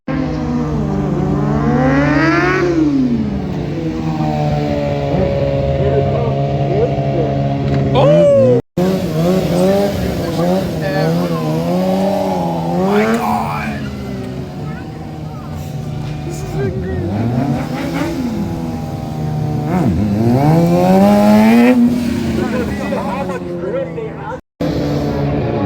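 Motorcycles ride with little grip on a brand new tire at a stunt show, their engines revving and wailing loudly, rising and falling in pitch across the whole span, with a short cut midway.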